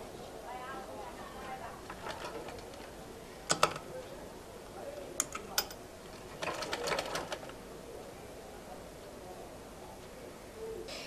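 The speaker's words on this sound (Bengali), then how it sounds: "নেওয়ার পর এবার আমি সেলাইটা করব।" A sewing machine stitching a kameez sleeve, short bursts of rapid needle clatter starting and stopping, faint and close, with a quiet voice between the runs.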